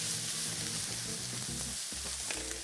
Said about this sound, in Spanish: además de esta cebolla que se está sofriendo